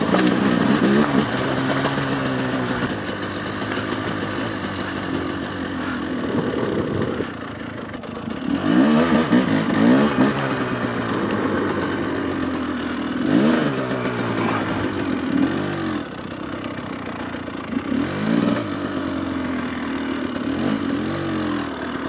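A GPX TSE 300R motorcycle fitted with an X Gen 3 carburetor runs close by, its engine rising and falling through repeated throttle blips and revs over a continuous mechanical rumble, with no talking.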